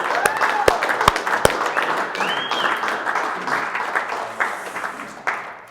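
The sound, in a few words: team applause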